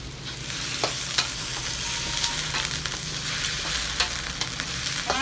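Broccoli stir-fried with oyster sauce sizzles steadily in a hot pan, with a spatula scraping and clacking against the metal every so often as the pieces are tossed.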